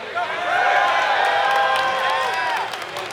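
A large crowd cheers and whoops at a live League of Legends IPL event at SXSW, a loud sustained roar that swells and holds for a few seconds.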